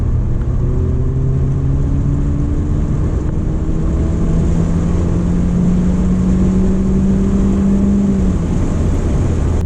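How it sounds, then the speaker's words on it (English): A 2014 Honda Civic Si with a 1.8L engine accelerates hard, its exhaust droning loudly and rising in pitch through a steady pull, heard from inside the cabin with the windows cracked. "I've got the windows cracked so you guys can hear this exhaust a little bit better. I'm gonna do one more pull for the road."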